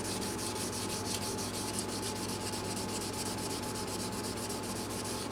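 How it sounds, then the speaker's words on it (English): Steady, continuous wet sanding of a Guild Starfire guitar neck with StewMac wet sandpaper, a close, even rubbing hiss held at constant loudness throughout with no pauses or talk. "This is all the StewMac wet sandpaper."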